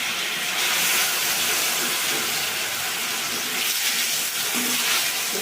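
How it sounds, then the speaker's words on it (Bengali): Brinjal muitya dumplings dropped into very hot oil in a kadai, a loud, close, steady sizzle and hiss of frying that fills the whole stretch without pause. "তেলটা গরম হয়ে গেছে। এই মুইঠাগুলো এবার ছেড়ে দেবো।"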